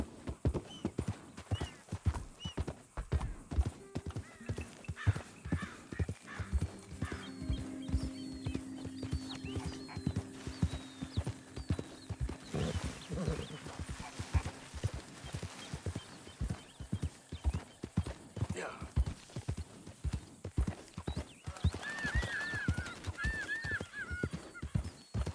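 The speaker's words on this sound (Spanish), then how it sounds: "¿Son caballos salvajes o qué?" Horses trot through the game Red Dead Redemption 2, a continuous rapid clip-clop of hooves, close and steady, with occasional snorts and a brief whinny near the end, no speech.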